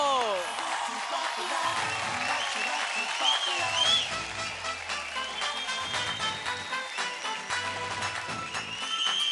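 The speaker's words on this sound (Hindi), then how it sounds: "जोरदार तालियों के साथ स्टेज पर बुलाते हैं मानसी पारेख गोहिल को।" A studio audience at a televised singing show applauds steadily as a singer is called to the stage. The clapping is sustained and mid-level, blended with music and some voices.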